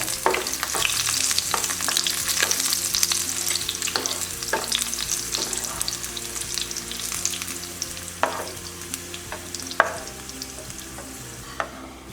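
Oil sizzles steadily in a pan while cooking for egg biryani, a continuous bright hiss broken by regular clicks and scrapes of a spoon stirring, close and fairly loud with no one talking.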